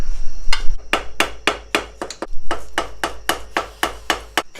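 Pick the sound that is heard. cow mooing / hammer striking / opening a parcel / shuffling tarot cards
hammer striking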